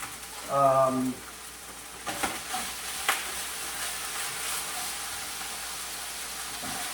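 Onion, garlic and ginger fry in a pan, a low steady sizzle close by after a brief tonal hum at the start, with a few stirring scrapes and no talking.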